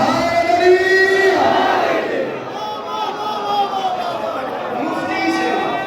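A crowd chants the Naara-e-Haidari slogan in unison at a Jashan Wiladat religious gathering. Loud massed voices rise and fall in a few surging waves, filling the space with a steady, reverberant roar.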